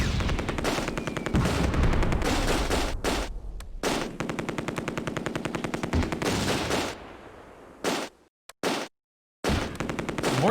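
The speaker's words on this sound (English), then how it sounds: "if you got a machine gun, you can put enough bullets down range, eventually you'll hit something" Machine gun fire in the World War II strategy game Close Combat: A Bridge Too Far, with long, loud, continuous automatic bursts that break into short staccato volleys and brief pauses near the end.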